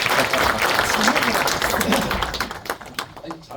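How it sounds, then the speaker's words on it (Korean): Audience applause for an actor at an event, a dense steady wash of clapping from start to end, fading slightly toward the close. "이원정 배우님께 큰 박수 부탁드립니다"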